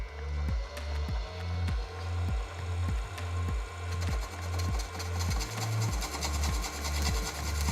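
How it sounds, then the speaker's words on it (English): A 19mm Forstner bit bores slowly into carbon to seat a Spartan gunsmith adapter, a rhythmic grinding churn pulsing in steady beats for several seconds, close and fairly loud with no talking. "When you're cutting carbon, do it real slow, and it tends to blunt these bits pretty quick"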